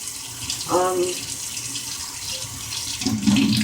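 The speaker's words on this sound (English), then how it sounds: "As you can see, I'm just rinsing them out." Tap water runs into a kitchen sink as seeds are rinsed under it, a steady close splash with a brief gurgle near the end, and a voice talks faintly in places.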